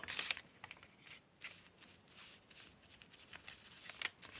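Scissors trim a small pink embellishment trimming from a sewing box for a vintage-lamp junk journal collage, heard as faint, close snips and rustling paper or fabric, with no talk.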